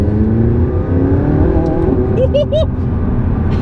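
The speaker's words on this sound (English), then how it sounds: "there's a sort of crack about it, a slight whip crack on the upshifts that just sort of reaffirms that not only have you changed gear" A McLaren sports car, either a 570S or a 675LT, revs hard and close, its engine note rising through gears, with sharp whip-like cracks on the upshifts near the end and someone talking over it.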